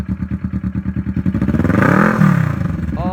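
A 2017 Kawasaki Vulcan S 650 cruiser motorcycle with ABS, its engine loud and close, going from a lumpy idle to a rising rev that peaks and then drops back.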